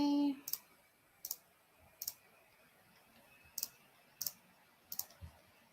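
A computer mouse clicks sharply six times at uneven intervals, some as quick doubles, close and crisp against a quiet background with no talking.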